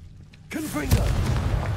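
A Confringo blasting spell explodes in Hogwarts Legacy, with a sudden booming burst followed by crackling pops and a whooshing tail, loud and close.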